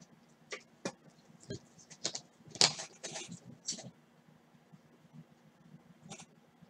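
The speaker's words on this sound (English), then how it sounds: "I don't know what I'm typing in." Sparse, irregular key taps on a computer keyboard, soft and close, with a low steady hum in the background.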